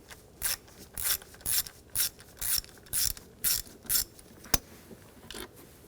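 A ratchet with a 10mm socket loosens a bolt on the intake of a 2007-2013 BMW X5 3.0L inline-six, giving about eight evenly spaced, close, crisp clicking strokes followed by a single sharp tick.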